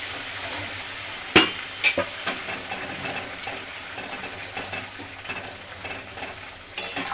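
Fried mourola fish simmer in a sour raw-tomato curry with mustard and green chilli paste, a low steady bubbling hiss broken by a few sharp utensil clinks near the start.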